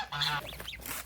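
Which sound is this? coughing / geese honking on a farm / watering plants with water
geese honking on a farm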